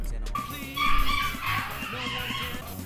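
Strange, high whining and squealing cries from dogs rise and fall in wavering, siren-like tones, loud and close, with voices mixed in.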